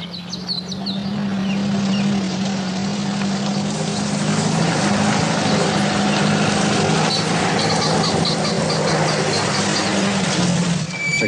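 A landing craft's engine drones steadily and loudly, a constant low hum with a rough wash of noise over it and faint bird chirps at times, with no talk.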